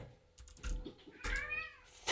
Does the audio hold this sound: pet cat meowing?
yes